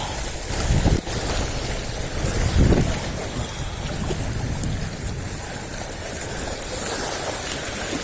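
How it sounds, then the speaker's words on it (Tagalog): Strong wind roars steadily across the microphone outdoors by the water while fishing, with gusty rumbling bursts and a constant rushing hiss. "Malakas ang bayo dito ng hangin."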